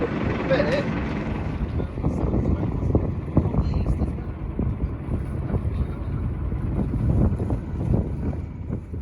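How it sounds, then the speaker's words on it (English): Strong northeasterly force 5 wind buffets the microphone with a steady roar and rumble, over constant low engine-like noise out on open water. "the wind is northeasterly force 5"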